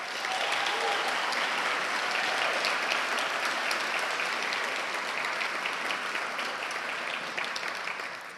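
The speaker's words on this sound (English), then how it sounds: "Can I please get a round of applause for our team" Audience at an environmental nonprofit gathering applauding its team and partners, a long, steady, fairly distant wash of many hands clapping that holds level and fades slightly at the close.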